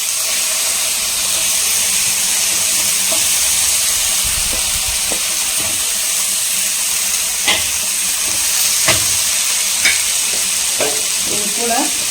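A tomato mixture spluttering and frying in a covered pan, a loud, steady sizzle broken by sharp pops and spits that come more often toward the end, close up with no talk.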